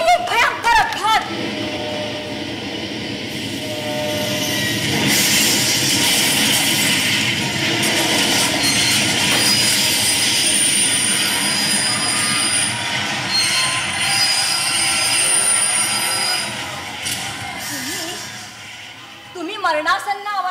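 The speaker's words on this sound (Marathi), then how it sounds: "गाडी पूर्ण वेगाने एका विरान जंगलातून चालली आहे" A train races at full speed through a deserted forest and then derails, with a loud, sustained roar of rolling cars and high metallic wheel squeal that swells and holds for about twenty seconds.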